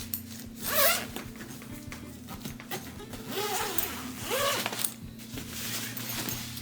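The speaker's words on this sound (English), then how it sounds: "Now let's unzip this bad boy." A zipper on a small Baggu packing bag is pulled open in several close, scratchy strokes that come and go over a few seconds, with no talking.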